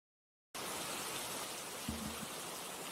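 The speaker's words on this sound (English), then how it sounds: "let's get some rain sounds." A recording of rain fades in after a moment of silence, giving a soft, steady, fairly quiet hiss of falling rain with a faint low thump partway through.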